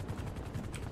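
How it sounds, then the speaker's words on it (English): A steady low rotor drone from a police helicopter in GTA V fills the clip, continuous and fairly loud, with faint crackles on top and no voices. "This is a robot helicopter, bro."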